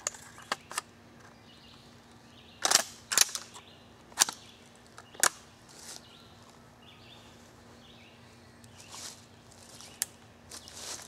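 A .410 shotgun fired outdoors with a 2 3/4 inch shell of 7.5 shot, a few sharp distant cracks spread over several seconds amid quiet surroundings with faint bird calls.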